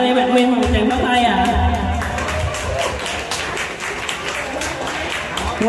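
An audience at a Vietnamese ball python keepers' meetup breaks into lively applause, dense rapid clapping nearby that continues steadily, mixed with crowd chatter and a few voices.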